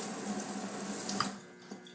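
A small Innokin iClear 30 vape tank part is rinsed under a running tap, a close steady rush of water that cuts off partway through, followed by faint drips and quiet room sound.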